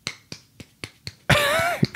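Hand clapping from a single person, five sharp, evenly spaced claps near the mic, then a loud burst of noisy sound with a sliding whine that covers the last claps.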